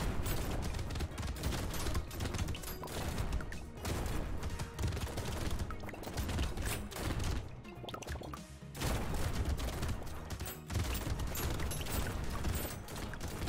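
A shotgun in the game Brotato fires constantly in fast, overlapping blasts mixed with game effects, a busy stream of shots with brief lulls, moderately loud and with no talking.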